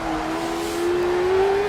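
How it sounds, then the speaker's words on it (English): A loud rally car engine in DiRT Rally 2.0 drones steadily under heavy throttle, its pitch slowly rising with mild acceleration, with rumbling gravel and road noise beneath it. "This cart is a lot louder than some of the other cars"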